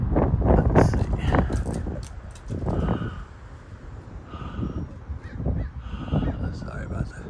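Crows caw repeatedly outdoors while mobbing a hawk high overhead, harsh calls rising and falling over steady wind noise on the microphone.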